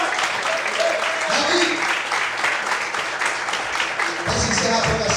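Church congregation applauding during a Portuguese-language sermon, a dense steady wash of clapping throughout with a voice speaking over it and a low rumble rising near the end.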